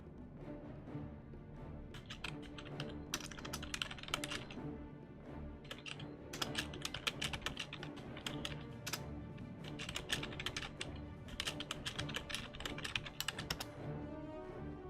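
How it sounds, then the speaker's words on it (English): Fast, uneven bursts of computer keyboard typing during a game broadcast, crisp clicks clustered in quick runs with short pauses, fairly close and alone without talk. "Pay no attention to my terrible typing skills."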